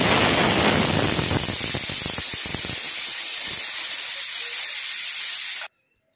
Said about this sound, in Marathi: आता या कुकरची शिट्टी झाल्यानंतर तुम्ही बघाल भाजी अगदी फ्रेश झालेली आहे